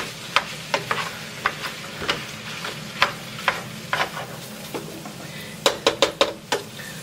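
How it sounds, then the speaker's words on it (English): Ground meat for spaghetti tacos is smashed and stirred in a hot pan, with a utensil knocking and scraping at an irregular beat over a steady background sizzle. No one speaks. "So we're going to let this cook down a little bit."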